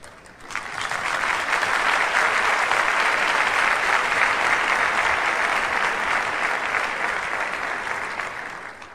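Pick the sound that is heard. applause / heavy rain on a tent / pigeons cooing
applause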